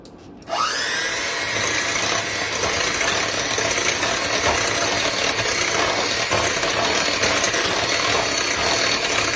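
Electric mixer beating lemon delight filling for a layered dessert, starting abruptly after a brief pause and then whirring steadily and loudly without a break until the end, with no voices.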